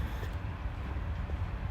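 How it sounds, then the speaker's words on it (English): A long train rolling past on a walk through a natural park: a steady, low rumble with a faint clatter of wheels on track, continuous and unbroken, heard from some distance. "Or it's the longest train ever."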